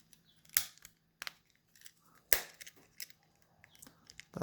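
Plastic case of a Ford key fob snapping shut after a battery change, two crisp close clicks with faint handling noise between them in a quiet room.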